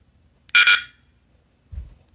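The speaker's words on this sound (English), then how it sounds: "When the battery is in, it'll beep." A single short electronic beep from a Lorex security camera as its battery is inserted, close and clear, followed by a soft low thump in otherwise near silence.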